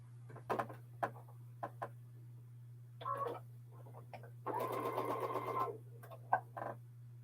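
A sewing machine stitches quilt borders in short separate bursts and one longer run, over a constant low electrical hum, with small clicks between runs.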